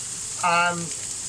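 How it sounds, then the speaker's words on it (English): Tomatoes fry in a pan for chicken dopiaza, giving a steady sizzle throughout, with a brief humming tone rising over it midway. "I'm frying off these tomatoes. I'm going to toss them about."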